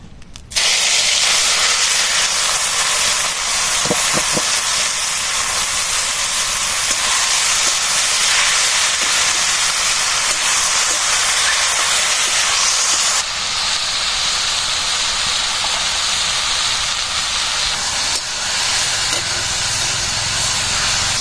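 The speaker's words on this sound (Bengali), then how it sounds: "তেল গরম হয়ে গেছে, ছাতুগুলো দিয়ে দেবো।" Sattu frying in hot oil in a wok gives a loud, steady broadband hiss that holds for the whole stretch, easing slightly partway through, with no talking.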